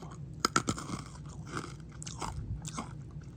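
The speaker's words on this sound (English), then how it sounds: "I don't think Skittles are supposed to make that noise." Crunchy freeze-dried Skittles candy is bitten and chewed close to the mic, giving a few sharp cracks followed by softer, irregular crunching and grinding, fairly quiet with no talk.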